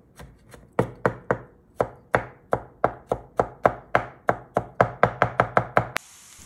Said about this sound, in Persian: 2 حبه سیر، ریز ریز خوردش کن